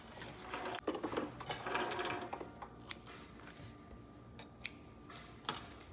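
A sewing machine runs a zigzag stitch along a homemade fabric mask, its quiet mechanical ticking coming in short bursts with brief pauses and sharp clicks between.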